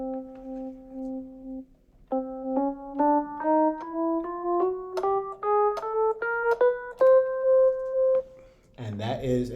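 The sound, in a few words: chromatic scale played ascending from C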